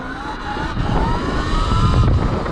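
A Sur-Ron XX electric dirt bike accelerates hard in sport mode, its rising electric motor whine climbing steadily over loud wind and tyre rumble across a brief burst.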